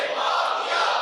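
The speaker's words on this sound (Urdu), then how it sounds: "آئیے کچھ نعرے لگاتے ہیں" Large crowd chanting religious slogans in unison at an Islamic gathering, a brief, fairly faint burst of massed voices.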